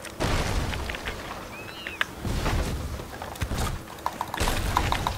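Heavy booming ship cannon blasts fire repeatedly in a busy video game galleon battle, loud low thuds rolling one after another with small pops and clatter between.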